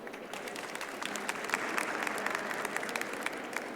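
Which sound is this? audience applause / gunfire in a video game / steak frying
audience applause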